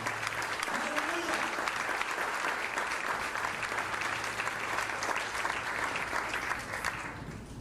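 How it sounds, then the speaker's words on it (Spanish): A church congregation breaks into sustained applause for God, a dense, continuous roar of many hands clapping in a large room, loud and even throughout with a few voices mixed in. "Aplaude al Rey si crees esa palabra"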